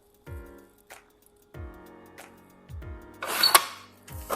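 A trimmer slices the edge off a laminated sign in a few short strokes, each with a quick scraping glide and a brief clack as the blade returns, plus one louder rasping swipe, close up with no talking.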